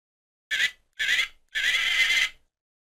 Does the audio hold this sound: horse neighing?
yes